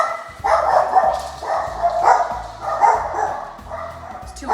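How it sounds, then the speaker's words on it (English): Several dogs bark in repeated bursts, about four loud volleys close by, with yips mixed in. The barking is heard in a kitchen during the morning, while a sausage, egg and cheese breakfast casserole is being baked. "Too early for barking dogs,"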